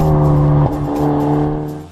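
A 2019 Veloster N sports car's 3-mode exhaust drones loudly with a steady low tone, briefly shifting pitch partway through before settling, close and alone.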